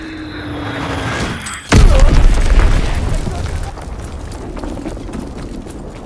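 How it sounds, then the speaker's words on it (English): A heavy bomb explosion in the video game Call of Duty WWII, a sudden loud boom after a low descending whine, followed by a long rumbling decay. "Enemy bomb incoming! Get to cover!"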